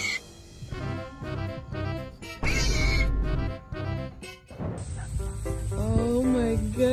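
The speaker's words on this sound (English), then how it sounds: "And this cat also wanted to make friends." A cat gives a series of distinct meows, several drawn-out and rising cries close by, with a hissy stretch partway through and a high steady tone near the end. Faint background sound runs underneath.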